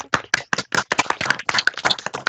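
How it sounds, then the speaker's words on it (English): A few participants on a video call clap, sharp uneven hand claps coming through close and slightly compressed, loud and dry with brief gaps, with no talking. "Round of applause, people, if you would like to come off mute and give Simon Yay! a clap."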